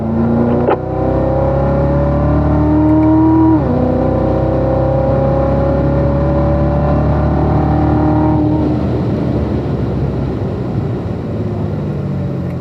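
A race car engine drones loud and close on a track, its pitch climbing steadily as it accelerates, with an abrupt drop at a gear change before rising again.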